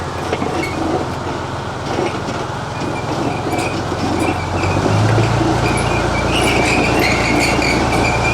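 Heavy military armored vehicles roll by at an outdoor Fourth of July armor parade, a loud, continuous low rumble with clanking, grinding tracks that swells and grows louder midway through.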